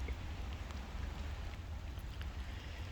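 Steady rain falls, a soft even hiss with occasional faint drips, continuous and fairly quiet, with a low rumble underneath.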